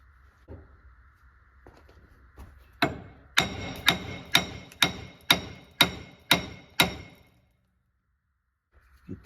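A hammer strikes a wheel hub on a 2011 Chevy Silverado during wheel bearing replacement, landing about eight sharp, evenly spaced metallic blows close by after a few lighter taps, then stopping.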